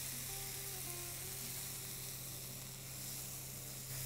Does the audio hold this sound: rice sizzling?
yes